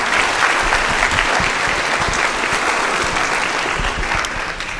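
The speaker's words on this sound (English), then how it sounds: "So a real quick round of applause for them if any of them happen to be here." Concert audience at a high school instrumental music spring concert applauds the school bands, a dense, steady wash of many hands clapping at full volume for the whole stretch with no talking.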